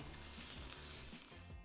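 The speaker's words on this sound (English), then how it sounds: "We are gonna dump in this beef that's been pre-sliced into a hot sizzling pan" Steady, dense sizzling of pre-sliced beef frying in a hot pan, continuous and fairly loud throughout with no talking.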